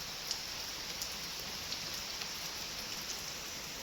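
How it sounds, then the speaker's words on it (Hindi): Steady rain falls on brick paving, a soft continuous hiss with scattered drop taps, even and moderately distant, with no voices. "फिर से लगातार बारिश हो रही है"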